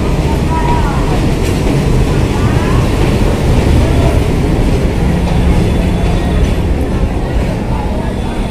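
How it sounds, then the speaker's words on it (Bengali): A train pulls into Kushtia railway station in Bangladesh, its loud continuous rumble and clattering wheels filling the platform throughout, close and dominant, with a few faint voices mixed into the din. "ট্রেনও কিন্তু চলে আসছে।"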